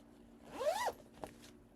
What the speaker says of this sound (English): Sorry about all the zips for those of you with earbuds.